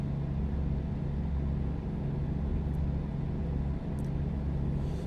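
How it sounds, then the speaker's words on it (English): A truck engine runs steadily, a loud, continuous low rumble with a constant droning hum and no talk over it. "God damn, this truck sounds incredible. That engine sound is beautiful."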